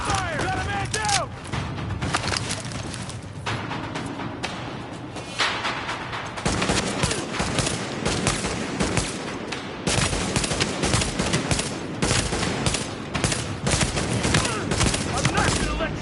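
Heavy gunfire in Tom Clancy's The Division is dense and constant, with loud overlapping bursts and booms filling the whole stretch, while voices shout over the battle.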